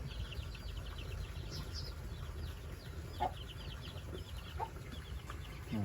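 Several young chickens cluck and chirp softly at a distance over steady outdoor background noise, with a couple of louder calls standing out.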